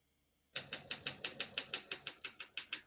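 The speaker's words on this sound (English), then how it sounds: "We're going to keep that on single and finish typing." Keys strike paper on a 1958 Olympia SM3 portable typewriter, about fifteen crisp, evenly paced clacks close up after a moment of silence.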